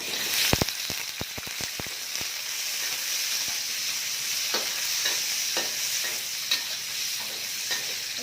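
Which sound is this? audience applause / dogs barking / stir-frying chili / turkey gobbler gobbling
stir-frying chili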